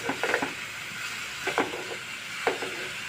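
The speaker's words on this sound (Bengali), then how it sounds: "এখন আমি কেটে রাখা চিচিঙ্গাগুলো দিয়ে দিলাম।" Chopped snake gourd tumbles into a hot frying pan with spices, giving a steady sizzle with a few scraping, stirring bursts spread across the moment, close and moderately loud.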